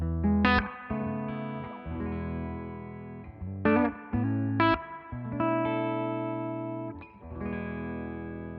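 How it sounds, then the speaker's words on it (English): A Les Paul electric guitar plays clean through a Two-Rock amp with just a cable, sounding sustained, ringing chords and picked notes with sharp pick attacks, close and alone. "So here's the clean Les Paul. It's going through the 2-rock"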